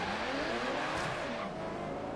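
V12 race car in the video game Forza Horizon 3, engine roaring steadily with a rising and falling pitch as it drives, alone without talk, moderately loud throughout.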